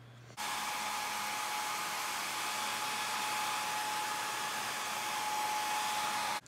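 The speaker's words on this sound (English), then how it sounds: "we're gonna heat it up with a hairdryer one more time" A hair dryer switches on and blows steadily with a loud, even whooshing roar and a faint whine, running close by for several seconds, heating a BMW E46 CSL spoiler during installation.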